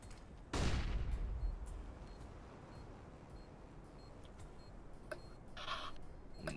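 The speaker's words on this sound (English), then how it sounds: "I'm throwing a flashbang." A flashbang grenade in CS:GO gives one loud, sharp burst followed by a fading ringing wash, then quieter ambient game noise and a few faint clicks.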